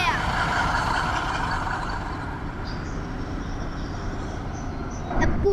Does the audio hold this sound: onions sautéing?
no